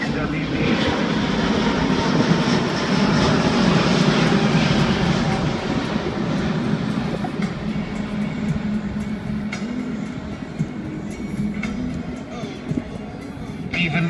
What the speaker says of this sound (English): Even at this early stage of introduction, the aircraft is already gaining a reputation as the hush liner.